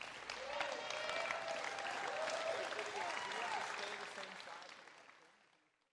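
A crowd at a professional pickleball championship match gives a standing ovation after a rally, with dense, steady applause and cheering mixed with voices that hold for several seconds and then fade away.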